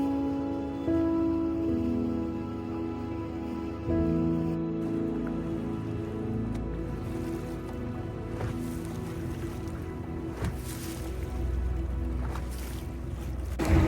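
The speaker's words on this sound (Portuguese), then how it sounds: "a água ficou um pouco mais movimentada. Tem mais ondas já." Choppy water with waves slapping near a boat close to where a river meets the sea on the Alagoas coast, a steady broadband wash with a low droning hum underneath, no talk.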